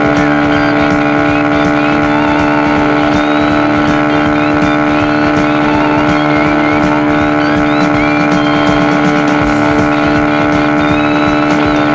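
A Yamaha FZ25 motorcycle runs at speed, its engine a loud, sustained drone with rich stable harmonics and a fast, regular pulsing texture that holds close and constant throughout.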